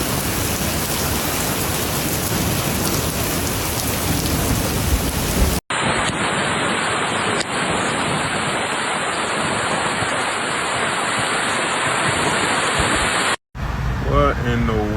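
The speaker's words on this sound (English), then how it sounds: "Footage shared by X-User shows heavy rain and hail lashing parked cars amid the weather event." Heavy rain and hail lash parked cars in Phoenix, Arizona during a severe thunderstorm, a loud, dense, continuous roar of drumming impacts that breaks off briefly twice.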